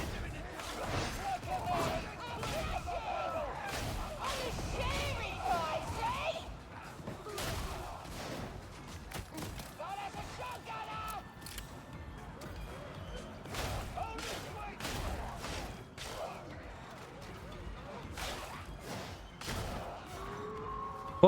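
Grenade blasts and gunfire in the video game Darktide, a dense run of sharp explosive cracks and booms firing in quick irregular bursts over a busy battle din, with a voice talking over it at times.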